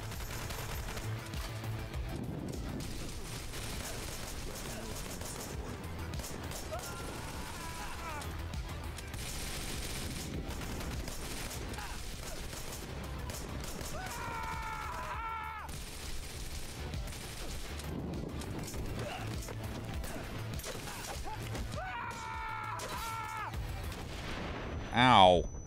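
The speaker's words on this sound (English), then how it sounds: "I just have to shoot those ones." Gunfire in the action game Wanted: Dead, bursts of shots and impacts over a dense, continuous game mix of effects and music, with a louder hit near the end.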